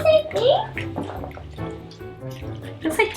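Water is stirred and sloshed in a bowl while making slime from an Elmer's slime starter pack, with intermittent wet swishing and dripping sounds heard under a child's and an adult's voices talking nearby.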